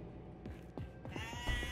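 Goats bleat in a horror video game, several short wavering calls overlapping one another, faint and set against a low droning ambience.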